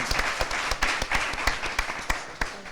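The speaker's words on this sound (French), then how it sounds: "Allez, on applaudit tout ça." Studio audience applauding on a French quiz game show, dense sharp claps with a few louder individual strikes, steady and fairly close, with no talk over it.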